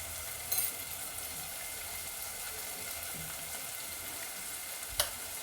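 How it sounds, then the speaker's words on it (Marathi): Asafoetida added to hot oil for a mixed vegetable curry, a faint steady sizzle with two brief sharp clicks, no talk. "रस्सा भाजी करणार आहे मी आता हिंग घालायचं आहे अर्धा चमचा"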